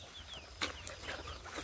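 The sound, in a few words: desi country chickens clucking in a poultry shed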